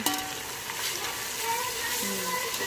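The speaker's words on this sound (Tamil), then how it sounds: "நல்லா போட்டுட்டு வதக்கி விடுங்க" Tomatoes sautéing with onions in a pan give a steady close sizzle and frying hiss throughout, with faint scraping of stirring and no voice.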